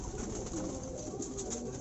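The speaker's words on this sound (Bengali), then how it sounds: "ওখানে দেখতেন পারছেন আপনারা কবুতরগুলো ঘরে ঢুকছে" Trained pigeons returning into their loft coo quietly in a low, continuous murmur, faint and without any talk.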